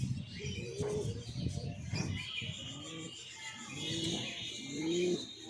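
German Beauty Homer pigeons at a bird park give soft, repeated rolling coos close by, several calls overlapping with faint chirps in the background.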